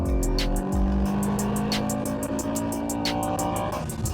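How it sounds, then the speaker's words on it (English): A high-revving 2002 Honda S2000 engine screams close by under steady acceleration as VTEC engages, a loud continuous wail with rapid pulsing overtones. "When that VTEC hits, sounds so good."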